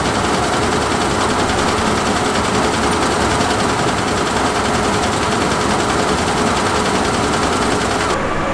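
A MacDon FD2 series header runs with its cutting knife going, a loud, steady, rapid mechanical clatter with no letup from start to finish.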